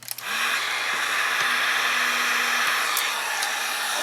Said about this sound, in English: While the heat gun's heating up